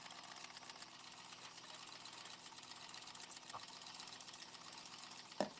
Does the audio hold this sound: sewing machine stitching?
yes